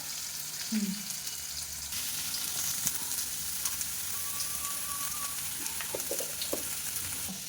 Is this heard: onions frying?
yes